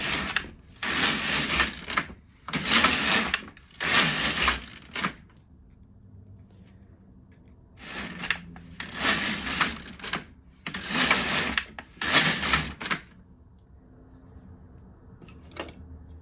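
Knitting machine carriage pushed across to knit rows of a cardigan, giving loud rattling, clacking passes of about a second each, three in a quick run, a pause, then three more, with quiet gaps between.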